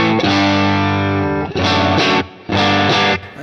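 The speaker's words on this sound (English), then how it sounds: "It's got that top end, like the little scratchy distortion." Electric guitar played through a Line 6 Helix Floor amp modeler on a Divided Duo amp model, sustained distorted chords with scratchy top end, loud and alone, in three bursts separated by short gaps.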